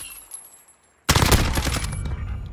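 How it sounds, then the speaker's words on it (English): Modern Warfare gunfire erupts after a near-silent lull, with a sudden loud burst of rapid shots continuing as a dense close volley. "As you can see, I'm shooting him in the head."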